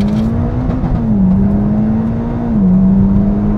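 A Mitsubishi Lancer Evo X engine drones loud and close at high revs, holding a steady pitch that briefly sags as it touches the rev limiter.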